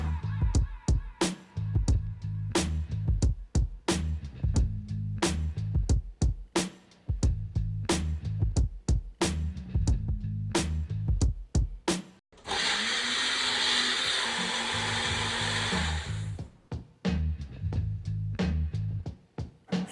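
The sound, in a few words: chopping tomatoes with a knife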